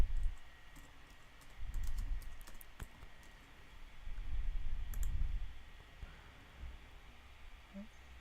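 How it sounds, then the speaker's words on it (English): Keys on a computer keyboard are tapped in short irregular bursts while a search is typed, the clicks faint and close-up over a low background rumble. "Kylie Jenner is trending right now, so I would go and just type in Kylie Jenner"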